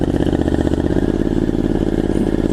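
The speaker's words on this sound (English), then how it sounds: "when the engine starts racing and gets nice and smooth" Triumph Scrambler 900 motorcycle engine idling with the choke on after sitting unstarted for about three weeks, running loud and close with a steady, even throbbing pulse that never lets up.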